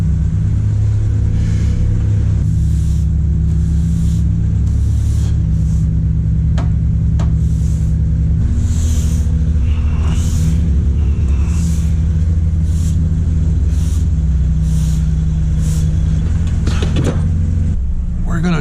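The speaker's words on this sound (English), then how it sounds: "Let all these cars warm up for a bit." A 1990 Honda Civic Si hatchback with a B20 VTEC engine idles while warming up, a steady low drone alongside other cars idling, with someone speaking intermittently over the running engines.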